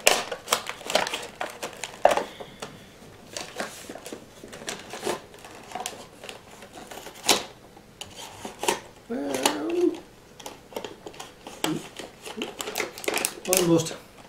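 Knife cutting on a cutting surface, a quick irregular run of close clicks, taps and scrapes, with a voice talking over parts of it.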